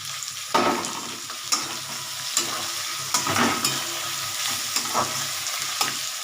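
Crushed tomatoes go into a pan of cauliflower and pea curry, raising a steady close sizzle broken by several sharp stirring scrapes and spoon knocks, with no talking.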